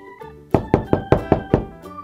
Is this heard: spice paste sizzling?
no